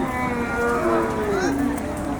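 A cow gives one long, drawn-out moo at a busy Eid cattle market, rising and falling in pitch, over a murmur of background noise.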